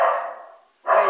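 Two sharp dog barks close by, separated by a short silence, at a home while a barbecue grill is being cleaned.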